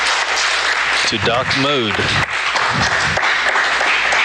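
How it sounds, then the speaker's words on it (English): Applause breaks out in mission control as Boeing's Starliner docks with the International Space Station, a broad wash of clapping running beneath a voice calling out over the communications loop. "That's applause you hear."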